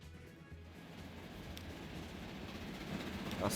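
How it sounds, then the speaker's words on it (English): Freight train carrying machine goods in Transport Fever 2, a faint rolling rumble with soft rail clatter that swells slightly as it nears. "That's the train that carries the machine goods to Gainsborough."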